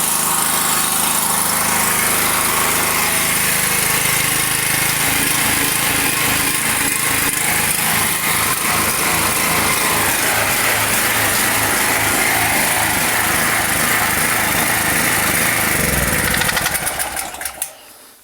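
A methane-fuelled generator engine running outdoors at minus 13 degrees in frost, a loud, steady close-up drone with a buzzing pulse that holds evenly before cutting off abruptly at the end.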